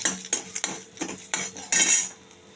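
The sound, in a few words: stirring ginger and cumin powder in a pan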